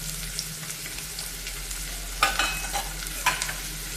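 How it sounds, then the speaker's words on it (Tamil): Ground radish and cashew paste is stirred and fried in oil for a butter bean coconut milk pulao, giving a steady soft sizzle with a spoon scraping the pan now and then and a couple of sharper clinks. "மிக்ஸ் பண்ணி நல்லா ஃப்ரை பண்ணிக்கலாம் அந்த ஆயில்லையே."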